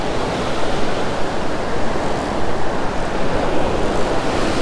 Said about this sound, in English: I like the way the water is breaking here,